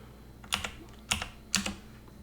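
Keystrokes on a computer keyboard while entering a dimension in CAD software, three distinct taps spaced about half a second apart, close and crisp over a quiet room.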